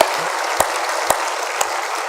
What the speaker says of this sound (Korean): 박수 쳐서 하나님께 영광을 드립니다